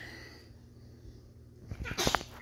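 A single sharp sneeze bursts out near the end, loud and close. Quiet room noise comes before it.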